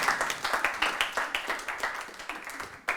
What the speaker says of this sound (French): Applaudissements s'il vous plaît.